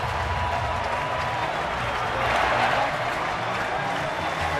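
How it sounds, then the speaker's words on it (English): Baseball stadium crowd applauding and cheering as the Giants take the lead: dense, steady clapping and crowd roar at moderate distance, swelling briefly midway, with no clear voices on top. "And finally they get this crowd into it."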